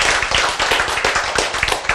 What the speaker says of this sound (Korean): 여러분 박수만 치셨는데 함성을 지르신 분도 개중에 계세요